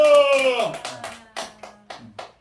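In a church Sunday service, a voice rings out briefly, then the congregation answers with a few sharp, separate claps spaced across the next second or so, close and moderately loud.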